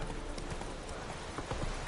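Roach, the horse in The Witcher 3, gallops with a quick, steady run of hoofbeat clip-clops that stays close and fairly loud for the whole stretch.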